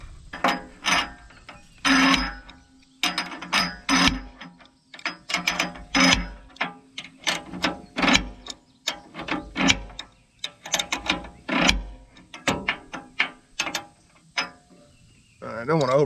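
Crescent wrench ratcheting and clicking against hardware while tightening the belt tension on a hay mower, a long run of close, sharp metallic clicks and scrapes in irregular bursts, with no talking.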